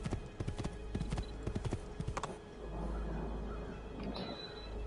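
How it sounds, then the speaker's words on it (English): Horse hooves clip-clop in the video game Assassin's Creed II, a quick close run of hollow clopping beats for about two seconds before fading into low ambient rumble and faint game sounds. "You're on a horse."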